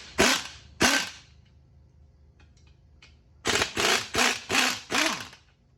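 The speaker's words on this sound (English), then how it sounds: "I'm just using my impact gun to get it off real quick." An impact gun zipping off 10 mm 12-point clutch pressure plate bolts on a D16 engine: two sharp rattling bursts, a pause with faint clinks, then five quick loud bursts in a row, up close.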